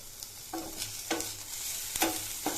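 Ground garlic, ginger and green chili fry with onion in a pan, a soft steady sizzle broken by a few sharp stirring scrapes at regular intervals, close and fairly quiet.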